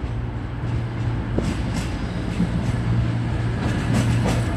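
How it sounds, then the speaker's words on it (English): A tram passes at Sheffield with a steady rumble and rolling wheel noise, a sharp click partway through and a faint squeal near the end, held at a moderate distance. "Tram as well."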